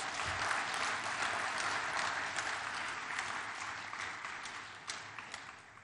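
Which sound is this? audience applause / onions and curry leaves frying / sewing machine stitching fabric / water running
audience applause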